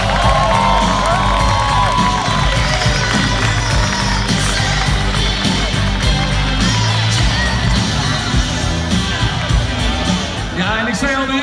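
A crowd cheers and shouts for a young football player of club WVV34 presented on a flatbed wagon, loud sustained cheering and whoops with voices and some music mixed in throughout.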